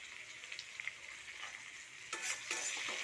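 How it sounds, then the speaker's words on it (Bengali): Tomato pieces fry and get stirred with potato stalks and vegetables in a pan, a steady sizzle with brief scraping stirs, louder bursts near the end, close and without talk. "তো সবজির সাথে আমি টমেটোটাকে ভালো করে ভেজে নিচ্ছি একটু।"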